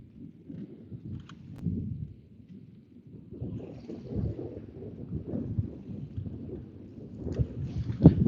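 Wind buffets a microphone on a bass fishing boat, a steady low rumble with gusty swells that build toward the end, no talk over it.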